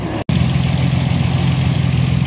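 A toy vehicle's engine runs at a steady idle, a continuous low hum with a constant high whine, briefly cut out near the start before resuming loud and close.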